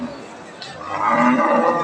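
A Friesian dairy cow gives a long, low moo that swells in the second half, close by, over a soft background murmur at a cattle market.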